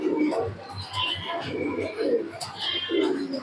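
Close, steady cooing from high-flying tournament pigeons, with several soft rolling calls in a row over faint room noise.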